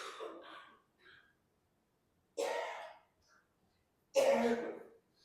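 A few separate coughs or throat-clearing bursts, close and fairly quiet, separated by short silences.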